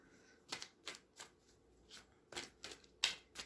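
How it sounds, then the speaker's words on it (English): Tarot cards are shuffled close up in a string of quick riffling bursts, soft and papery, with brief pauses between them. "One more shuffle."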